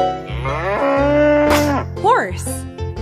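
In a children's animal-learning video game, a single loud, drawn-out cow moo plays up close. It rises and falls in pitch and fills the whole brief moment, with a short synthetic tone at the end.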